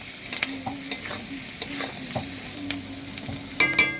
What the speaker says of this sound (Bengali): পেঁয়াজ ক্যাপসিকাম এরকম হালকা করে ভাজা হয়ে গেছে